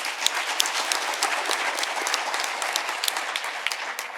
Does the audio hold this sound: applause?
yes